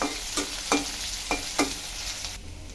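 Onion and garlic frying in a pan, a bright continuous sizzle broken by four sharp stirring strokes, close and fairly loud, fading quieter at the end with no talking.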